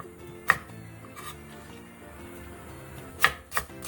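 A knife chops radish on a cutting board in a few sharp, separate knocks, one early and a cluster near the end, close and clear over a quiet kitchen.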